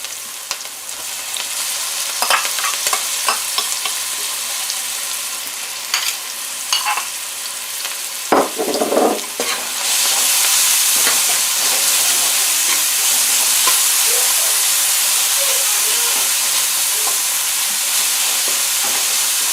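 Curry paste for a peacock bass fish curry hits the pan with a few stirring scrapes, then a loud, steady frying hiss swells up and continues close and strong.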